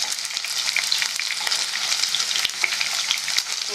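Chicken 65 pieces deep-fry in hot oil, giving a dense, crackling sizzle with scattered pops and bubbling that runs continuously and close, with no talking.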